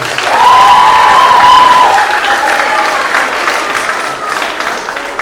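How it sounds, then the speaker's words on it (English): An audience at a middle school awards ceremony gives a loud round of applause that swells quickly and then tapers slightly, with a brief whistling tone over it early on. "give him another round of applause"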